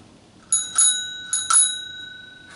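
A new bicycle bell rings outdoors at a park by the beach, two quick double dings close together, each with a bright metallic ring that decays slowly; no one speaks.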